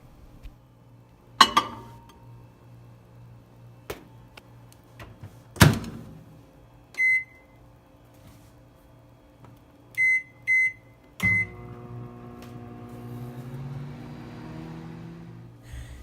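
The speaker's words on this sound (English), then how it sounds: "place the bowl in the microwave between 2 and 3 minutes depending on the power of your microwave" A microwave oven cooking rava idli in a bowl: a door thuds shut, a few short beeps sound, then the oven hums on steadily, close and moderately loud with occasional clunks.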